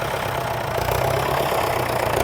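Vintage 1950s Fordson Major tractor engine idling steadily at a haymaking festival, a low rhythmic diesel chug close by with a slight rise in loudness partway through, no talk.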